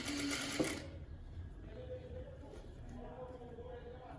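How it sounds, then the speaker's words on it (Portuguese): Household sewing machine backstitching to secure the end of a seam on a blouse, a brief loud whir at the start followed by quieter mechanical ticking under a faint hum. "Que eu não arrematei no começo, então eu arremato no final"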